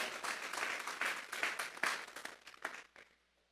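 A church congregation claps together as an offering to God, a lively round of many hands that swells, then thins out and fades to quiet near the end.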